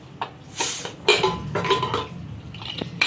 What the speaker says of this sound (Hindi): देखिए, अब हम कुकर का ढक्कन खोलेंगे।